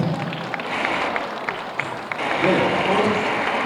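A crowd at an awards ceremony applauds in steady, dense clapping that swells slightly toward the end, with voices faintly mixed in.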